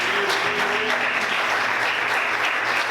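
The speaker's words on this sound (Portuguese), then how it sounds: "Vamos aplaudir Jesus," A church congregation claps loudly in a dense, steady wash of applause that holds from start to finish, with a faint sustained tone beneath it early on.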